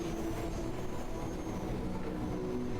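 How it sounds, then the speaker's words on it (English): A video game train rumbles past as a steady low, continuous roll with a faint high whine above it, holding even loudness throughout with no talk. "The sound of train could be heard in the distance."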